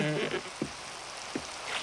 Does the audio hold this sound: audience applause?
no